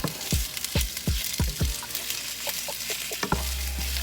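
Shrimp stirred in a hot pan for a shrimp and broccoli stir fry: several close, sharp scrapes come in a quick rhythm over a steady, fairly quiet sizzle, then the sizzle carries on alone.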